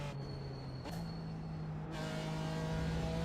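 A GT4 race car engine at Road America in a racing game drones at a steady, low pitch, then shifts to a new tone as the revs change, fairly quiet and steady throughout without talk.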